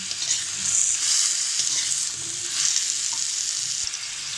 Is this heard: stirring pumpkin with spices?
yes